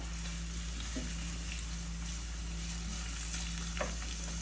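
Onions fry in a pan with a continuous low sizzle, stirred occasionally with soft scraping strokes; the sound is even and moderately quiet, with no voices.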